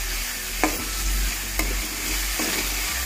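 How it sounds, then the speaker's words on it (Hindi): Potato vadi and tomatoes fry in a pan with a constant sizzle, while a spoon scrapes through them in three distinct stirring strokes, close and clear, with no talking. "इनको भी अच्छे से भून लेंगे"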